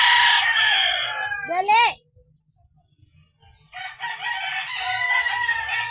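Chickens on a sunny Philippine chicken farm, a rooster crowing loudly up close before a brief lull, then dense clucking and calls resume, with a person shouting a word.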